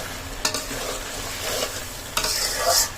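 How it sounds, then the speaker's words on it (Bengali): Ash gourd sautéing in a pan sizzles steadily while a spoon stirs and scrapes it in repeated close strokes, with a few sharper clinks against the pan. "দেখুন সুন্দর করে আমি কুমড়োটা কষিয়ে নিচ্ছি।"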